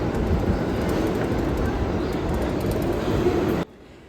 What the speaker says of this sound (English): Here comes another N train.